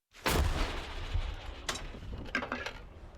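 A single loud, sharp boom from an American M101A1 105 mm field howitzer firing, followed by a rumbling, echoing decay with some clattering noises afterward.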